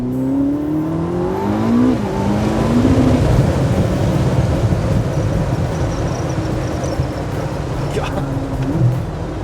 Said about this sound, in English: being able to put the top down and being able to hear that V8 a little bit better is excellent